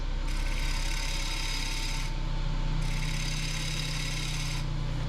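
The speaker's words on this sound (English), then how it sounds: "you can instantly tell the difference that I'm using a sharper gouge" A sharp gouge cuts into a small maple bowl turning on the lathe, giving a steady, loud, dense shearing hiss over the constant hum of the machine.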